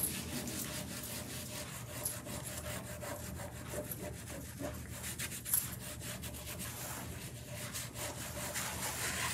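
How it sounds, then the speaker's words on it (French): Wet fingers rub softened paper off an image transfer in a steady, rapid scrubbing rhythm, a quiet, close, continuous friction sound with no talk. "Je viendrai l'enlever encore avec un petit peu d'eau, avec les doigts."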